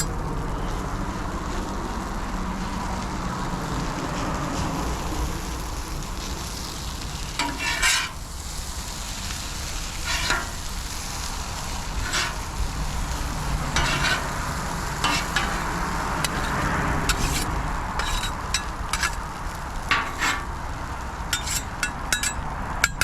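Shredded hash browns sizzle steadily in melted butter on a Blackstone flat-top griddle, a continuous close frying hiss broken by occasional scraping strokes of a spatula, with no talking.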